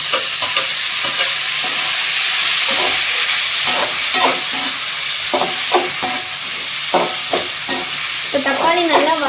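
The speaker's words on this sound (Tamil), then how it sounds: "வதங்கி அப்படியே எண்ணெய் பிரிஞ்சு வரும் அந்த ஸ்டேஜ் வரைக்கும் நம்ம வதக்கணும்" Onions and tomatoes frying in oil for vegetable biryani, a loud, dense sizzle close by with repeated scraping strokes of a stirring utensil, no speech.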